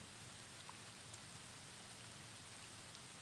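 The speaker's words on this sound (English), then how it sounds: "It is no longer sprinkles. It's rain." Rain pours outdoors beside the James River during a night of catfishing, a steady, even hiss of drops with no breaks and no voices, fairly soft throughout.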